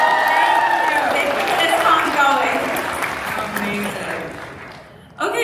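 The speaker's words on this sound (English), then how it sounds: "Round of applause for Tech Ops, y'all." A convention crowd at a TV cast Q&A applauds and cheers, with loud clapping and whoops that slowly fade, while a voice speaks over the end.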